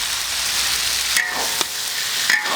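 Duck soaked in rice wine stir-fried in a wok with glutinous rice chili paste, a steady close sizzle with a few sharper scrapes and clinks of stirring, no voices.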